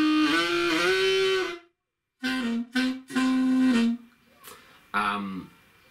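Harmonica growl made by humming while blowing: a buzzy, gritty held tone, then several short choppy bursts and a final brief blast, close and moderately loud with gaps of silence.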